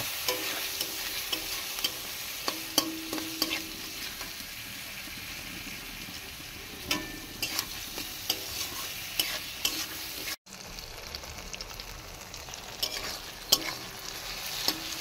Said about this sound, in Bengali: এবারে আমি সবকটা মশলা খুব সুন্দরভাবে ভেজে নেব